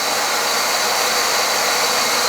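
A portable milking machine's vacuum pump runs with a continuous, even, loud hissing roar that holds steady without any change in pitch or volume.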